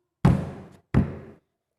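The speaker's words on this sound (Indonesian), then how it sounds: "Ini dengan menghentakkan meja, memukul meja, ya, duk duk." Two sharp knocks on a table, a firm double thud, 'duk duk', close and isolated with silence around them.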